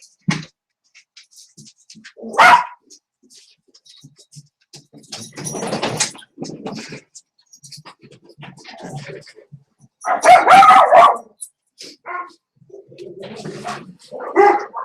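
Several sharp dog barks burst out at intervals, some distant and some closer, with quieter rustling and outdoor noise between them.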